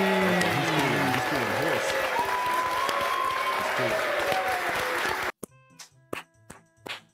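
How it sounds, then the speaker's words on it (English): Studio audience at a talk show bursts into loud, sustained applause that fills the room for about five seconds, then cuts off to scattered claps and brief voices. "What were you clapping right there?"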